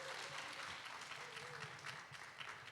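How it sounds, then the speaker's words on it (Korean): Church congregation applauding steadily at a 40th anniversary talk concert, a dense, even wash of clapping that holds for a few seconds at moderate distance. "우리 모든 분들께 다시 한번 박수 한번 보내드리겠습니다"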